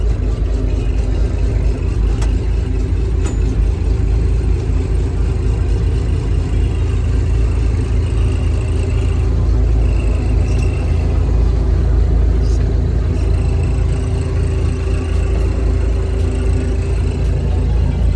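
Used Sampo combine harvester with its engine running close by, a steady, loud, low rumbling idle that continues unbroken throughout with no talking.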